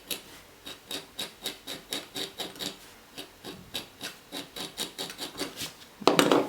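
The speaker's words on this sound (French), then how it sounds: "je vais vous montrer ce qu'on fait avec le cutter" Repeated scraping of leather with a utility cutter to roughen the surface before gluing a corner fold, about twenty short rasping strokes in a steady rhythm, close and fairly quiet, with a brief louder rustle at the end.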